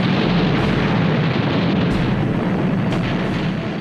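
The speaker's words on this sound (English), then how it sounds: "she took a bomb which penetrated 4 decks before exploding." A heavy bomb explodes aboard a World War II aircraft carrier during the Battle of the Coral Sea, a loud, continuous roaring blast with a deep rumbling low end that holds steady for several seconds.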